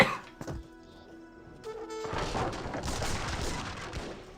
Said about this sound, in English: Mamelukes receiving quite a bit of gunfire.